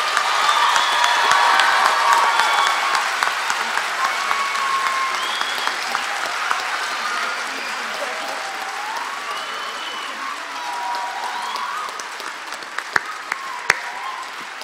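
An audience at a Women's History Month awards celebration applauds loudly and steadily, dense clapping with scattered whoops that slowly thins out toward the end.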